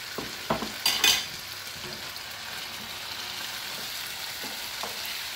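Steak and vegetables stir-frying in a pan, a steady soft sizzle with a few sharper clatters of stirring near the start, then an even hiss to the end.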